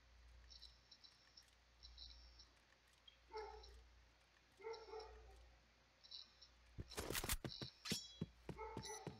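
A dog barks in short bursts at a distance, faint under a low background hum during a live Point Blank gaming session, followed near the end by a louder burst of sharp game noise.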